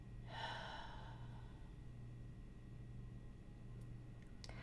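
A single deep breath drawn in and then let out during a guided relaxation session, a soft close exhale that fades into quiet room hum.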